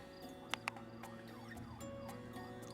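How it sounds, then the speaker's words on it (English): Faint electronic sirens from the shipping video game TransOcean 2: Rivals wail with rising and falling sweeps, with a couple of brief sharp clicks early on and no talking. "Those stupid sirens are so annoying."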